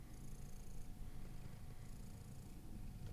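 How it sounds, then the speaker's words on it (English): A tabby cat with brown and black stripes purrs softly and continuously at close range, a low steady rumble resting near some electronics in a quiet indoor space. "That's a very cute tabby cat with brown and black stripes."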